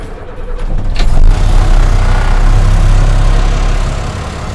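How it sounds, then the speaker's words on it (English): A Chariot bucket truck's engine runs loud and close, a heavy low rumbling drone that holds steady for several seconds before easing slightly, with no talking over it. "Another challenge with the bigger truck is the noise."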